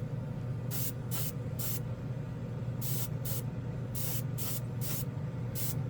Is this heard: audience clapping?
no